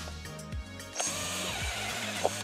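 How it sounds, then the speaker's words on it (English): A hole saw on a power drill cuts access holes in a Scout Trooper helmet, a continuous close whine with rhythmic pitch dips as the motor loads and frees, plus gritty cutting noise and a few sharp ticks. "hole saw on"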